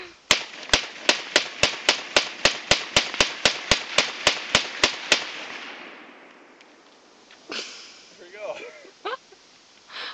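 A 20-shot fireworks cake fires a rapid, evenly spaced string of sharp, loud bangs that stops after about five seconds. Voices and scattered noise follow as the last echoes fade outdoors.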